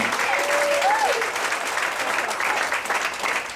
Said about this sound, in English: an extra round of applause for Jose's humor